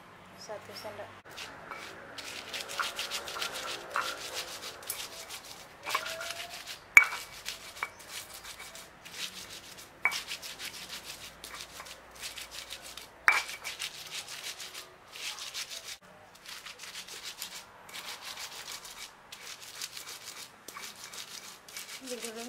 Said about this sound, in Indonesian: Kita giling cabenya dulu sampai benar-benar halus ya.